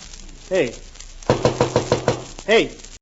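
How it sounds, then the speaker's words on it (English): A radio show sound effect of knocking on a door gives a quick run of six or seven sharp raps, close and loud, between bits of talking before and after. "knock on the door again, and I'll show you your mistake"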